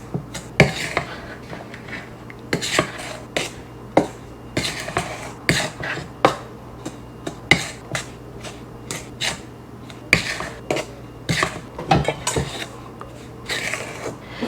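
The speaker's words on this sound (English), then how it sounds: "We're going to go ahead and stir this up with my wooden spoon here" Wooden spoon stirring dry ingredients for zucchini bread (baking soda, cinnamon, salt) in a bowl, heard as a steady series of sharp, close scrapes and taps at an irregular rhythm, with no talking.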